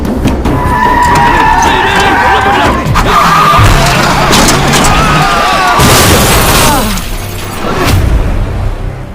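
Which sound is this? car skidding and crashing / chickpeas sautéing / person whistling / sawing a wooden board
car skidding and crashing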